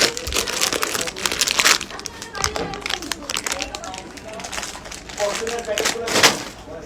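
Foil packets crinkling and rustling continuously, with taps and crackles, as people talk nearby.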